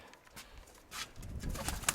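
A pigeon coos softly a few times amid faint outdoor background noise, with a slightly louder call near the end.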